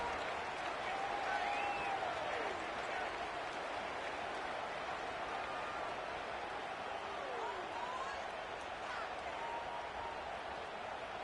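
Dense stadium crowd noise from NCAA 26 (College Football 26) on PS5, with Alabama playing, forms a steady, loud roar with cheering and applause-like wash throughout and no talk over it.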